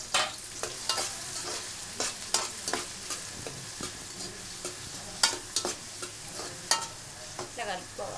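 Onions fry in a pan for a chicken curry, a constant sizzle punctuated by many sharp, close scrapes and clacks of a spoon stirring them, irregular but frequent throughout, with no talking.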